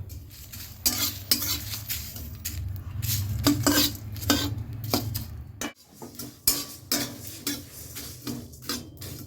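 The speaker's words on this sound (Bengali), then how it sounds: "একটু পাঁচফোড়ন ভেজে নিচ্ছি" Panch phoron spices being dry-roasted in a karahi, alongside bay leaf, cumin, coriander, fennel, fenugreek and dried chillies, while making jujube pickle: close clinks and scrapes of a spoon stirring against the pan over a steady low hum, with brief pauses.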